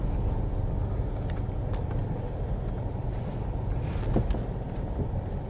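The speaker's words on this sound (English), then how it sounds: "This thing's taking the bumps pretty good." A Chrysler 300C V8 driven slowly off-road over bumps, a steady low rumble of engine and tyres with wind buffeting on the microphone and a few faint knocks from the suspension.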